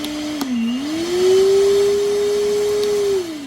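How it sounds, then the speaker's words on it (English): A Milwaukee M12 cordless shop vacuum runs with a steady, fairly loud motor whine that rises briefly in pitch as it spins up, then holds an even drone before easing down near the end. "This vacuum is much quieter than some of the other small shop vacs I've used"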